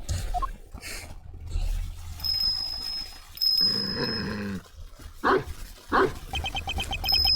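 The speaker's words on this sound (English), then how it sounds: "It's a dog." A dog with a bell around its neck barks in the video game Ace Attorney Investigations 2, a few short sharp barks spaced apart among game chimes and jingling tones, with no talk.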